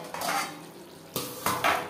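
Metal lid set onto a pot of shol fish curry with aloo and kanchkola, a few distinct clanks and clatters over a faint bubbling simmer.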